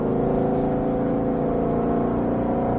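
A 760-horsepower Mustang Shelby GT500 engine pulls hard under acceleration on a track, a loud, continuous, close-up drone with a steady rising growl throughout.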